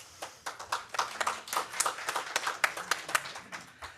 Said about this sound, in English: Barbara, if you didn't hear that, that was clapping